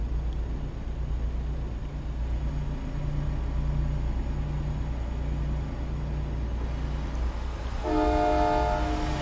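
A truck drives through a tunnel in American Truck Simulator, a steady droning engine and road rumble with hollow reverberation, ending in a loud horn blast near the end.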